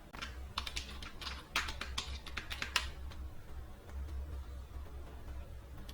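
A computer keyboard clatters as a YouTube channel name is typed: a rapid burst of key clicks over the first three seconds, then a few scattered taps and quiet, close and crisp, with no talking.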